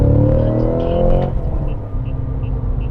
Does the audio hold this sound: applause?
no